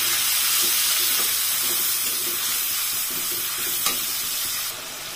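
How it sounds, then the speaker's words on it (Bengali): Onion and ginger frying in a pan with whole spices such as cinnamon and peppercorns, giving a loud, steady broadband sizzle throughout that eases off slightly near the end, with a faint scrape of stirring. "এবার দিয়ে দিব পেঁয়াজ, আদা আর পেঁয়াজ ভালোভাবে ভেজে নিই"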